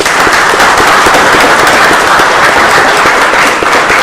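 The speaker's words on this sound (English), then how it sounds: "So let's give Don a big round of applause." Loud, dense audience applause at an amateur radio club meeting, sustained rapid clapping from many hands that carries through the whole clip without pause.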